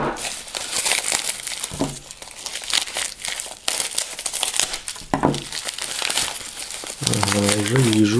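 Paper and cardboard packaging of a parcel holding a Ganzo knife crinkles and tears as it is opened, busy rustling close by with a person talking at the end.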